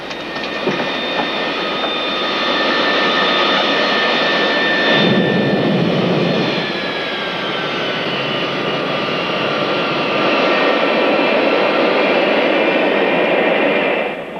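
Aircraft engines running at full power shortly before landing, a loud, steady roar with whining tones that holds throughout and swells slightly toward the end, with no voices.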